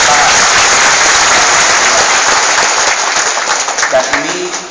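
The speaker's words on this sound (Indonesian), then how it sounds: "Kita beri tepuk tangan." A large audience at a public talk applauds loudly, dense continuous clapping filling the space before beginning to thin out near the end.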